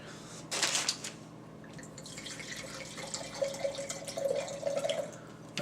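Wine glass being given a quick rinse under running water, a faint splash and trickle with a few drips, steady and close, with no talk over it.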